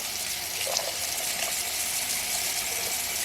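A can of water poured into a pot of homemade chili, a steady splashing gush lasting a few seconds, close and moderately loud.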